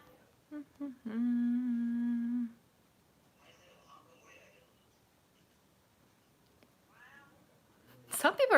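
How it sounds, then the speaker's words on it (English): A pet cat gives a long, loud meow, with quieter mewing, faint background voices and a burst of noise at the end. "It's not a dog, it's a cat."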